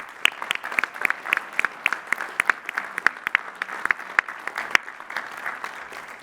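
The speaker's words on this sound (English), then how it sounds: "Please recognize the Doctors of Philosophy with our hearty congratulations and applause." Audience applauding at Lehigh University's spring commencement after doctoral degrees are conferred, a large crowd clapping steadily in a big hall, dense and sustained throughout.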